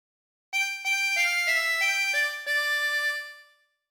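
A 24-hole tremolo harmonica plays a short melodic phrase from the folk song Ampar Ampar Pisang: about seven reedy, shimmering notes in a steady rhythm, alternating blown and drawn, close and clear with no talking.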